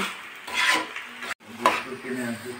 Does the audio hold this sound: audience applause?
no